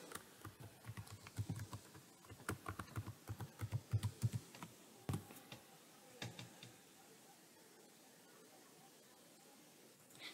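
Rapid clicking of computer keys as a password is typed to log into an Ubuntu Linux 20.04 server, a close burst of uneven keystrokes for about seven seconds that then falls quiet, with no talking.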